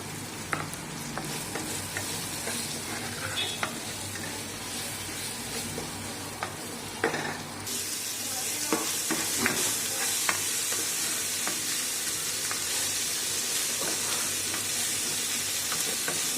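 Onions frying in a pan give off a steady hiss that grows louder halfway through, with occasional clicks and scrapes of stirring.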